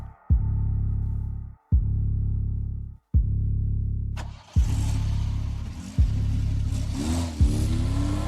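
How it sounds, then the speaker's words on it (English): Car engine in a forest video game: repeated low revving bursts that cut out and restart several times, then a sustained running engine with noisy wash and a rising whine near the end, close and loud. "The sound of departing car's engine started the countdown."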